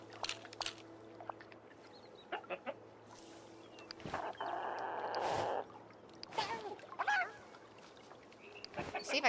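Chicken clucking and squawking in the video game Disney Dreamlight Valley, scattered short calls at low level among other game sound effects and a brief noisy burst.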